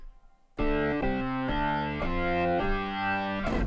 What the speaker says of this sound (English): having some Hammond organ with distortion and playing inverted fifth